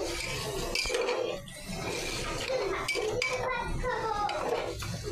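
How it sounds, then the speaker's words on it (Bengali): Mutton and spices being stirred in a pot, with repeated clinks and scrapes of a metal spoon against the vessel over a steady background and speech-like sounds. "দিয়ে দেওয়ার পরে এখন আমি খুব ভালোভাবে নেড়ে দিব"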